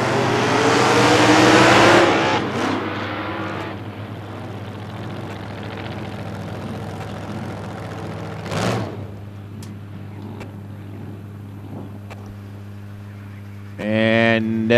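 A Chevrolet Camaro drag racing car launching at a drag strip, a loud revving roar for about two seconds that fades away down the track, with a brief burst later and another rev at the end, under a commentator's voice.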